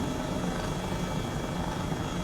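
An H-135 helicopter in Microsoft Flight Simulator drones with a steady, dense rotor and turbine roar that holds an even level throughout, with no talk.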